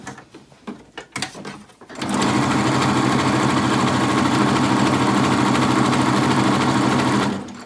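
A sewing machine runs steadily and loudly, stitching the bottom seam of cloth face masks. A few seconds of handling noise come first, then an unbroken mechanical whir that lasts until it stops near the end.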